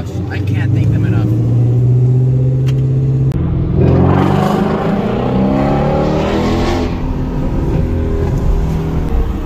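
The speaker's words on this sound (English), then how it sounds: "we got the Corvettes and the McLaren behind" A McLaren 570S and Corvettes drive together. An engine drones loud and near inside the car, its pitch rising and shifting as it revs. Voices talk excitedly over the engine noise.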